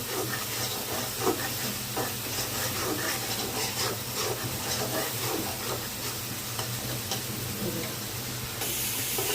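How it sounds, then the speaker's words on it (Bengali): Spice masala with grated tomato fries in oil for a rohu fish curry, giving a continuous close sizzle with rhythmic scraping of a spoon stirring the pan. "সম্পূর্ণ মশলা দিয়ে আমি ভালো করে মশলাটা কষিয়ে নিতেছি।"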